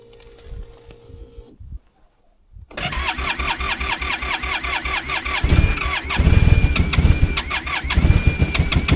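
A mid-sized engine cranks briefly, falls silent, then catches and starts, settling into a loud, rhythmic running idle after its fuel has been treated.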